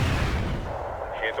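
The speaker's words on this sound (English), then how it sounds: "Another anti-tank missile." Anti-tank missile fire in the wargame Wargame: European Escalation, a single heavy booming launch rumble fading over about a second, with a voice beginning to speak near the end.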